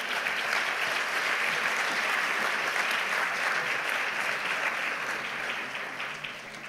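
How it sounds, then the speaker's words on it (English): Sustained applause from a large audience, steady and full throughout, tapering slightly at the end. "Would you give them a big applause once again as they leave the stage?"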